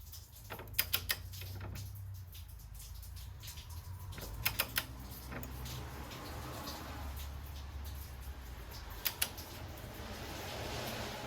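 A torque wrench tightens strut brace nuts on a BMW 335i to 25 pounds, heard as three short, sharp clusters of clicks spaced several seconds apart over a low steady hum.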